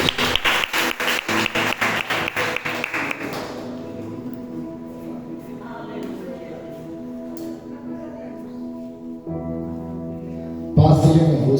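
Rhythmic hand clapping from a church congregation fills the opening seconds in regular, even beats, then gives way to music and voices before a brief loud burst of applause at the end.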